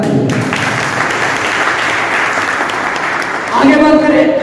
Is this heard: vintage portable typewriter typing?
no